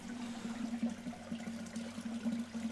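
Water under pressure escaping from a valve on a drum filter, a steady close trickling gush with a constant low hum beneath it, no talk.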